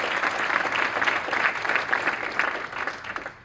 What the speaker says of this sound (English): People should give Dan a round of applause for putting this to fruition.